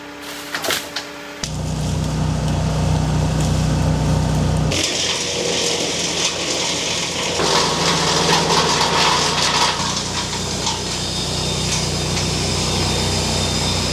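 An EGO CS1200E battery chainsaw bites into timber, its electric motor whining loud and near through sustained cuts that shift in pitch as the load changes, after a brief quieter start.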